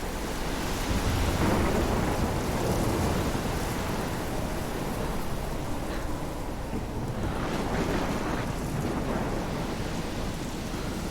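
A storm in Life is Strange, with a loud, continuous roar of wind and crashing waves and deep rumbling surges that swell and ease for the whole stretch, no voices.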